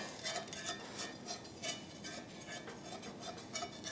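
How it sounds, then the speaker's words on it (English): A knife runs around the edge of a metal baking pan holding a freshly baked upside-down dish, giving faint, close, repeated scraping strokes with soft metallic clinks. "I'm going to run a knife along the outside edge of the pan"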